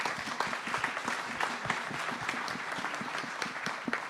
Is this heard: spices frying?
no